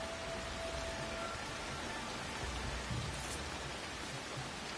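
Rain falls in Assassin's Creed Shadows, a steady, soft hiss of drops spread evenly throughout, quiet and uninterrupted with no voices.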